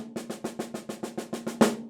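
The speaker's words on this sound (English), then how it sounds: "he starts it on the end of 4." Snare drum playing an 11-stroke roll starting on the end of four: a close, steady string of sharp strokes building to a louder accented final hit, with no other sound.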